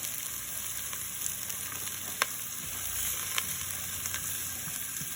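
About a teaspoon of butter melts in a pot and sizzles steadily and softly, with a few faint pops and clicks from the pan and no talking.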